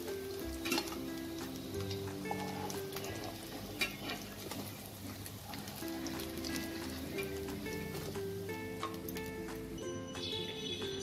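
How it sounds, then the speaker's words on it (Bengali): Cabbage and lentil cakes (dhoka) frying in mustard oil in a kadai, a continuous crackling sizzle with popping bubbles and occasional clinks, fairly quiet and close, no talking. "তুলে নিয়ে একই প্রসেসে আমি আরো সবগুলো ধোকা ভেজে নিয়ে ফিরে আসছি।"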